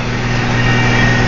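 A tractor engine runs steadily on a New Zealand dairy farm, a loud continuous low hum with no breaks.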